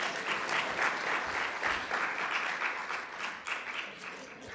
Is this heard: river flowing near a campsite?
no